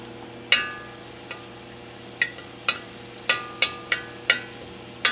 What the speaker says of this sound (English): now we're going to go ahead and saute some garlic until it's nice and fragrant